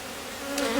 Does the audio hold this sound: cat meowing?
no